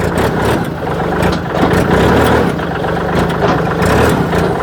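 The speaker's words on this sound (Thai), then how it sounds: "เครื่องยนต์เป็น3สูบเดเล็กนะครับ" A used farm tractor with a small three-cylinder diesel engine runs steadily close by, a loud, even chugging drone that holds without a break.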